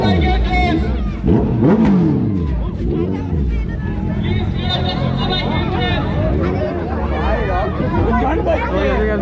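Superbikes, including a Honda CBR 650, arrive one after another at a biker meetup in Durgapur, engines revving and rumbling loudly and steadily under a crowd's chatter and babble.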